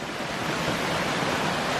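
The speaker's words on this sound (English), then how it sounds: "Lovely sounds of the water" Water streaming down a stream in a forested gorge on a Bavarian trail, a steady broadband rush that stays even and close throughout, with no talk.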